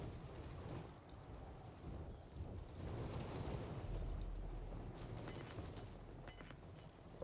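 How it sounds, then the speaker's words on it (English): Distant gunfire and explosive bursts in a battle-royale video game, rumbling under a dense, noisy game soundscape with scattered sharp pops and booms. "Oh, gunfire."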